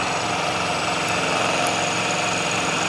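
A CNC-converted 9x20 lathe cutting metal with a shell mill at a slow 1300 RPM, lubricated with WD-40: a steady, close machining whir with a constant high whine and a low rumble, heard alone.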